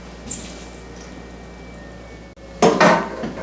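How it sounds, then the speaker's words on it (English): Graham cracker crumbs and butter are mixed in a bowl for a no-bake butterscotch pie crust, with a few soft clinks followed by a brief burst of scraping, rustling mixing up close. "In a bowl, we'll go ahead and mix the graham crackers"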